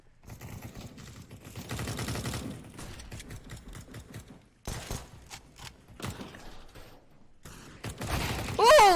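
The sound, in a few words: gunshots in video game Counter-Strike match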